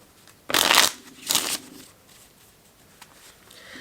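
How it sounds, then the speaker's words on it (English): A deck of cards being shuffled up close in two quick riffling bursts, the first longer and louder, followed by quieter handling noise. "we will grab the cards and shuffle"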